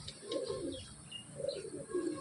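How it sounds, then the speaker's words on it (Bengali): A Kerala breed pigeon coos softly in a loft in Ranaghat, giving two low, throaty coo phrases close by, with faint chirps from other birds in the background. "একদম বন্ধ লেজের পায়রা"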